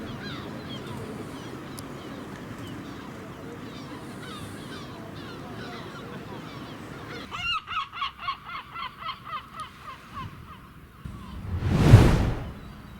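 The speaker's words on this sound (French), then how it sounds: "Le calme peut être interrompu par des parents mouettes qui appellent leurs petits." Parent gulls call to their young along a protected beach on the Galician coast, a run of rhythmic honking cries in the middle, with a louder rushing burst near the end over a steady outdoor background.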